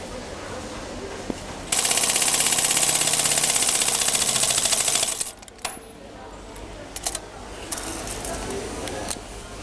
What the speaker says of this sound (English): stitch down this line by half an inch